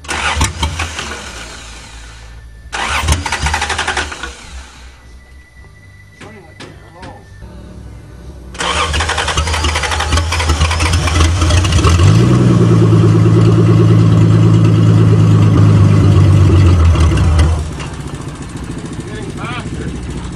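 A 1982 Toyota Cressida running on bad gas cranks in short bursts, then catches and starts, its engine rising into a loud, steady idle with a revving swell before settling; voices talk over parts of it.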